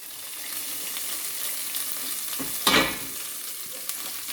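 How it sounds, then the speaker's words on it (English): A deep fried calzone, or pizza fritta, frying in hot oil as cheese boils out, giving a steady close sizzle with a louder bubbling burst near the middle and no talking. "That sounds like the cheese boiling out"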